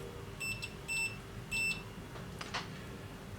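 A multimeter in continuity mode beeps while probing the power switch pins of a Yamaha RX-V459 receiver's front panel: three short, faint electronic tones in quick succession, then a soft click.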